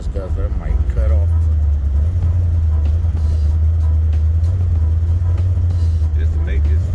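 A 1973 Chevrolet Caprice donk on 28-inch forged wheels cruises low on gas, its engine a steady loud low rumble throughout, with faint background sounds above.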